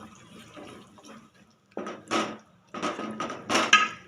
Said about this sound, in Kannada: ಕಾಳು ಹಾಕ್ತಾಯಿದ್ದೀನಿ ಕಾಳು ಮತ್ತು ನೀರು ಎರಡನ್ನೂ ಇದ್ರೊಳಗೆ ಇವಾಗ ಹಾಕೋಣ